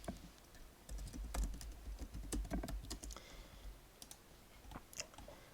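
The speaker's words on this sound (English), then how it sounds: "pressing M on the keyboard." Computer keyboard keys clatter in quick, irregular clusters of light clicks and taps, close by and fairly quiet, with no speech.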